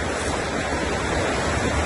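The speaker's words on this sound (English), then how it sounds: "I'm walking right along the side of the river." River water rushes at Southford Falls, a steady, loud broadband roar with no break and no voices.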